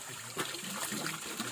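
Spring water trickles from rocks in the hills near Tirumala, a steady close wash of splashing and dribbling with no pauses over the short stretch.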